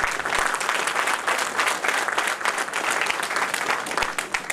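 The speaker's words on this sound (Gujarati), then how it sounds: "તાળી પાડવી જ પડે" Sustained audience applause at an inaugural function, a dense, steady clatter of many hands that carries on without a break, loud and close.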